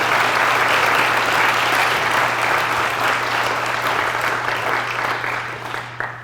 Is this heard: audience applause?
yes